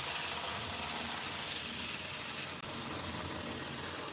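Close, continuous running noise from a circa-2000 inspection car, geared wheels grinding and buzzing at a steady level, with a tiny dropout partway through and no voices.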